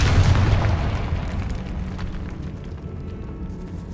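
A deep, heavy blast from the Confringo spell in the Hogwarts Legacy video game, a loud boom up front trailing into a long rumbling decay.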